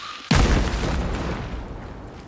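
A barrel explodes in the video game Hunt: Showdown, one sudden loud boom followed by a long rumbling decay that fades over about two seconds, with no voices.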